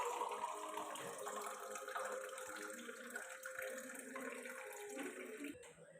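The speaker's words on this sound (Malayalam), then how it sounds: "എന്നിട്ട് നമുക്ക് ഇനി വെള്ളം ഒഴിക്കാം." Water being poured into glasses while lemon juice is made at home, a soft steady trickling pour with faint clinks, quiet and close, no one speaking.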